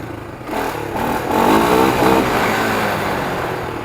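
A Honda motorcycle revs hard during a wheelie attempt, the engine note rising and swelling loud and close before holding at a high drone.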